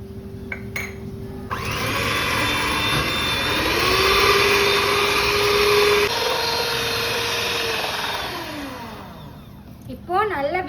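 An electric mixer beats eggs, sugar and vanilla essence for a sponge cake, with a loud, steady motor whir that holds for several seconds and then winds down. A brief sound follows at the end.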